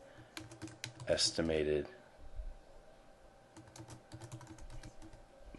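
Brief bursts of keystrokes on a computer keyboard while entering spreadsheet content, soft close clicks scattered under and after a short spoken word.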